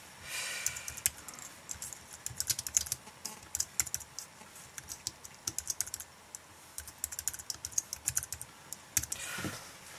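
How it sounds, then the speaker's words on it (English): Rapid, irregular clicking of keys being typed on an iPad keyboard, fairly close and steady throughout, with a brief soft breath near the end and no talking. "And it's really good for like typing"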